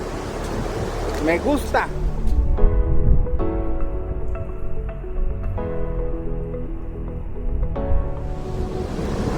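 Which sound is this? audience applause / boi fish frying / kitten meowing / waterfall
waterfall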